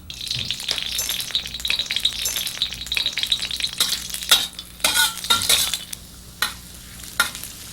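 Green chilies sizzle in hot oil in a pre-warmed wok with a constant hiss, broken by bursts of louder spitting and several clattering stirs of a utensil.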